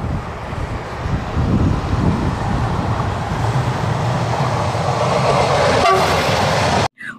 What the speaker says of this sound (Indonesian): Ini kereta api cepat.